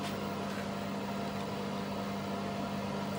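A 1400 W microwave oven running, giving a steady, even hum with a constant low tone under broadband noise throughout, with no talk.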